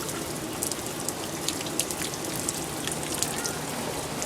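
Storm rain falls on a residential yard as a steady, even hiss of drops with scattered louder taps on nearby surfaces, continuous throughout with no voices.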